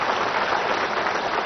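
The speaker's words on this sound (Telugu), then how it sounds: "మీరందరూ కూడా గట్టిగా చప్పట్లు కొట్టి అభినందించాల్సిన అవసరం ఉంది" An audience at a public speech event applauds, a dense, steady wash of clapping running evenly for the whole stretch with no voices over it.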